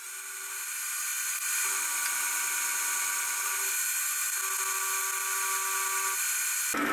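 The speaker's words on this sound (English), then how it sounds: "drill two holes to match up with those two tapped holes" A drill bores two holes in an aluminium offcut, giving a steady high-pitched whine that holds for several seconds with a slight dip in pitch partway through, then stops abruptly at the end.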